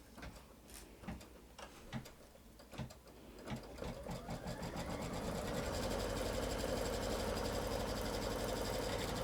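An embroidery sewing machine stitches in the hoop, starting with a few separate clattering bursts of needle strokes and then settling into a steady, continuous mechanical whir that holds to the end, close up with no talk.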